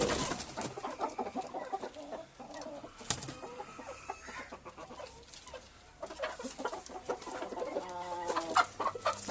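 Desi Golden Misri hens and a rooster on a farm in Pakistan cluck and chatter nearby, an irregular stream of clucks and squawks, fairly quiet, with no talk over them.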